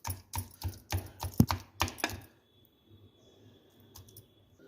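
Cooked pumpkin is pressed with a masher in about eight quick, close, evenly spaced squelching thumps, then near silence with only a few faint taps at the end.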